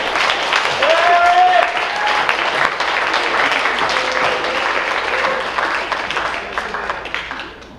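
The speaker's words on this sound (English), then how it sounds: "let's give a big round of applause to the Most Improved Athlete in their sport." Audience applause at a high school athletic awards night honoring a most improved athlete, sustained loud clapping from a crowd filling the room, with some talk mixed in beneath it.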